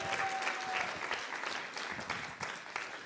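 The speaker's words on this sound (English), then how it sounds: "Give yourselves a round of applause." An audience breaks into sustained applause at a talk, a dense, fairly faint field of clapping that continues throughout without any voices.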